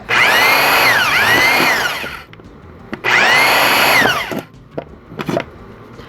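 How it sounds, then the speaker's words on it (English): A power drill whines loudly through a tin can in two long bursts, pitch swooping as it bites, with a short pause and scattered clunks between. "And drill."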